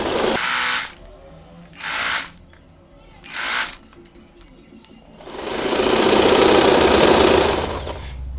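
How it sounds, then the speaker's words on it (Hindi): A sewing machine stitching a folded salwar belt runs in three short bursts, then in one longer continuous whirring run, with a voice speaking between the bursts. "तो हम इस बेल्ट को इस तरह से फोल्ड करते हुए स्टिच कर लेंगे।"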